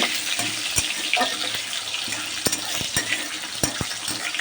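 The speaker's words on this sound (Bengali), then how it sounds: "একটু ভাজা ভাজা হোক টমেটোটা" Tomato frying in a pan over steady, bright sizzling, with scattered sharp clicks and taps of a utensil against the pan, close and continuous throughout.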